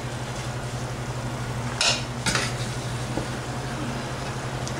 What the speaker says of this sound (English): And now I'm going to add these ninwa or squash or zucchini pieces.